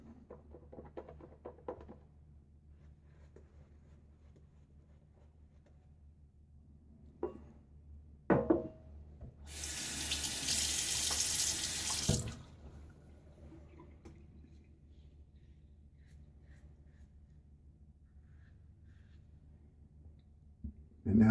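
A sink tap runs in one loud burst of about three seconds while shaving lather is rinsed off a face, set among faint clicks and quiet handling noises.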